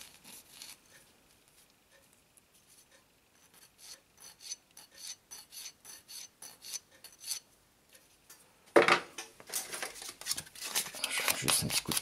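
A file scraping leftover sprue off a plastic part from a Liberty Walk Ferrari 458 scale model kit, with short, soft rasping strokes that turn louder and denser toward the end.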